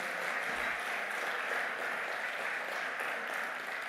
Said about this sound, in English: I need not request for the round of applause